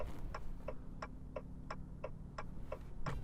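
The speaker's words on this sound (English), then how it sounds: "The indicator noise is like the ticking of a grandfather clock" Turn indicator of a Maserati Grecale ticking at a quick, even pace, about nine crisp ticks over a low steady hum, quiet and close, with no voices.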